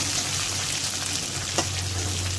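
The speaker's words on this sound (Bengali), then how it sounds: "করলা ভাজিটাও বসাই দিলাম" Bitter gourd (karela) frying in a pan, a continuous dense sizzle with a low steady hum beneath and one brief clink partway through.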